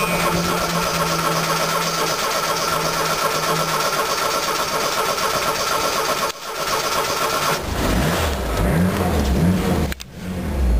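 A Ford Mustang engine on a cold start, cranking and catching into a loud steady idle, then blipping into revs near the end with a brief cut before settling again.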